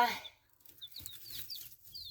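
Jersey Giant chicks peep softly in a series of short, high chirps, fairly faint, with low rustling and background noise and a louder burst at the start.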